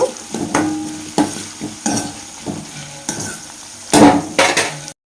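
Sliced carrots fry in a pan with a little salt and curry leaves, stirred by a utensil in repeated scraping strokes over a steady close sizzle, with no one talking.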